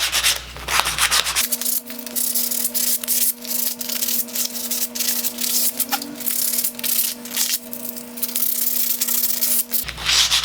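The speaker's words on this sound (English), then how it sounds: "And then get a piece of sandpaper to really get in here." Sandpaper rubs by hand over a part of a flat pack Morley mortiser in quick, rhythmic back-and-forth strokes, close and fairly loud, with a faint steady hum in the background.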